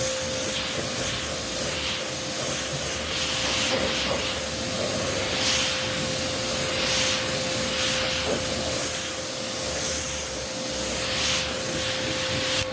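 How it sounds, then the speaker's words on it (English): Several short hissing bursts of car detailing spray onto a car come one after another at close range over a steady low hum. "And then you just spray"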